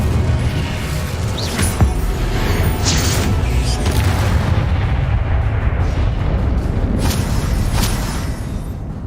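A fiery blast from the Incendio spell in Hogwarts Legacy, a dense, roaring whoosh of flame with booming low rumble that stays loud and continuous throughout, with no voices.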